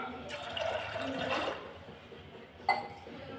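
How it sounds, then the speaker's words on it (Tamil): Water pours briefly into a pressure cooker with a gushing splash, followed by quieter settling sounds and a sharp clink of metal near the end. "இப்போ இன்னொரு கப் தண்ணி சேர்த்துடலாம்"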